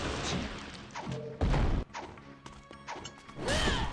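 A warhammer smashing an enemy in Ninja Gaiden Sigma, several heavy crashing impacts and thuds with swishes between them, including one loud, broad smash in the middle and another burst near the end.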